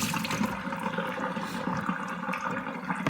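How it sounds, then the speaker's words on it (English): Soaking water is poured off fodder seeds, a continuous rushing splash of water that stays steady and close for the whole stretch with no voices over it. "So I'm just gonna dump this out."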